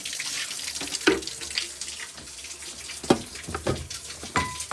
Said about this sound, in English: Just run some hot water.